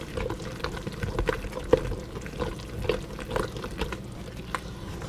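Whole wheat bread ingredients being stirred together in a bowl, heard close as soft, irregular scraping and sloshing strokes without talk.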